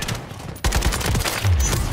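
A loose spray of automatic gunfire in Call of Duty: Modern Warfare III (2023) on the Stash House map, fired in rapid overlapping bursts with no talk over it.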